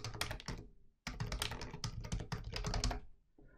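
Rapid typing on a computer keyboard, close and fairly quiet: a dense patter of key clicks with a brief pause near the start, then a steady burst before tapering off, with no voices.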